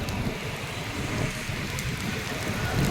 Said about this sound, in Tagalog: So yan pa rin ang ulan, pabugso-bugso pa rin